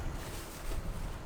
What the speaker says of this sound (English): I apologise for the wind.